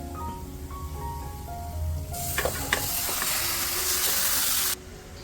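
About 500 grams of chicken hits a hot pan with spices for a pineapple chicken roast, setting off a loud, close hissing sizzle that runs for a couple of seconds while it is stirred, then cuts off abruptly.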